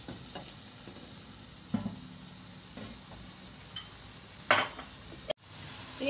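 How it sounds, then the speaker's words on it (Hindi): Beef pieces cooking with yogurt in a pot for a Karachi-style yakhni pulao, giving a soft steady sizzle with a few scraping stirs and one sharp clatter near the end. "तीन से 4 मिनट हमने दही के साथ गोश्त की भुनाई कर ली है"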